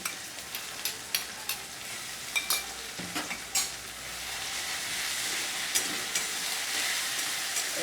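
A paste of onion, garlic and hot chili fries in a pan with a dense, close sizzle, broken by a series of sharp spatula taps and stirring scrapes early on.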